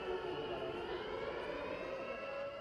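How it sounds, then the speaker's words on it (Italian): Air raid alarm sirens sounding at a street flash mob in Reggio Calabria, a sustained wailing tone held steadily at moderate distance across the whole stretch, with no voices over it. "Quelle sirene che abbiamo appena sentito e poi tutti a terra"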